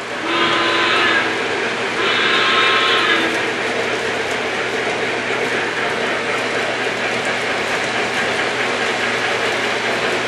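A model mallet locomotive climbs a hill on a home train layout with a steady rolling rumble, opening with two short whistle blasts in quick succession.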